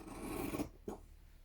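Scissors trimming embroidery thread on an advent stitching piece: a soft, close rasp of blades sliding through thread, ending in one sharp snip, with quiet afterwards.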